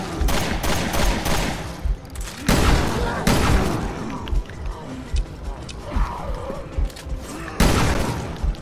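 Heavy gunfire rattles in Resident Evil Revelations 2 Raid Mode, with dense rapid shots and booming blasts that come thick and loud in bursts with brief pauses between them.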